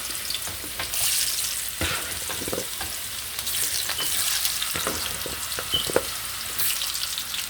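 Sliced potato wedges fry in hot oil in a home kitchen, giving a steady close crackling sizzle with scattered sharper pops and stirring clinks, and no talk.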